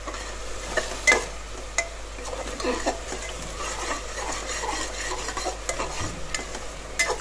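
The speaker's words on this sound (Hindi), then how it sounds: "अब इसे हम अच्छी तरह से भून लेंगे।" Spiced masala with coriander powder and salt being stir-fried in ghee for matar paneer pulao, a steady sizzle broken by repeated scraping strokes of a spoon against the pan, close and alone.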